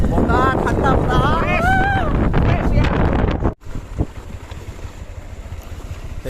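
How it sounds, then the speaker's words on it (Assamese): Cold wind buffets a microphone along a road in Assam, a rough, steady roar that fills the second half after a few seconds of voices talking. "বতাহ ঠাণ্ডা বতাহ"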